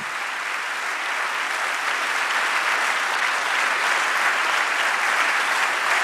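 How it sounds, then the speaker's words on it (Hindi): A church congregation at a prayer service gives sustained, loud applause for Jesus, an even, dense wall of clapping lasting several seconds without a break. "यीशु के नाम के लिए जोरदार ताली"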